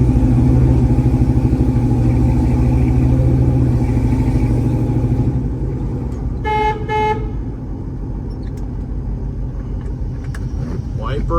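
A 1967 Chevrolet Camaro with a 396 engine rumbles loudly as it pulls away, the engine note easing after several seconds, followed by a brief pair of horn toots, with people talking at points.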